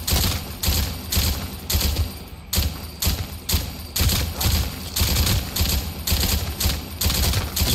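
Rapid bursts of automatic gunfire from a weapon in a Roblox zombie game, loud repeated volleys of shots in quick succession with brief gaps between bursts.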